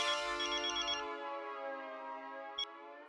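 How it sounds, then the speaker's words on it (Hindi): A telephone ringtone plays as a steady electronic melody, then fades out, with a brief click near the end and no voices over it. "अंजलि मेरा एक फोन है जरूरी, मैं जरा बात करके आता हूँ"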